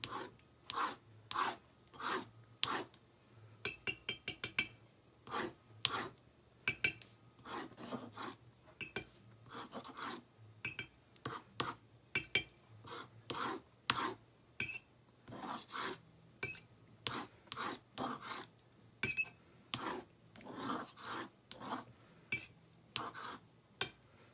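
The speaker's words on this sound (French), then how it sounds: "j'ai même pris une fourchette si je voulais gratter dedans" A fork scratches into paint on an abstract painting in quiet, repeated short strokes. The rasps come in uneven bursts with brief pauses between them, close and alone, with no talking.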